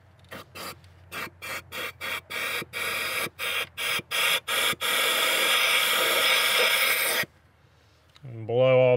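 A compressed air nozzle blows oil out of a spark plug hole on a 2010 Nissan Maxima into a rag: a series of short close hissing bursts, then one long steady loud blast that stops abruptly.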